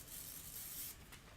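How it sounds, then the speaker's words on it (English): A short burst of fabric adhesive spray hisses onto fabric, a faint, soft airy sound lasting about a second with no voices. "I'm going to give it a little shot of spray because I didn't spray this one"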